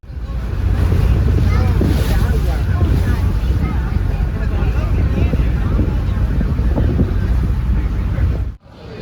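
A water taxi motors across the sea near Nassau, with a steady loud rush of wind and spray and a low engine rumble filling the whole stretch before cutting off abruptly at the end.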